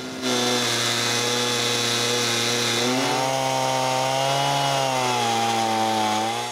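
A chainsaw cutting a wooden rafter in two while a woodshed is built at a cottage, with a loud sustained engine whine whose pitch dips and shifts as the chain bites through the wood and no talk.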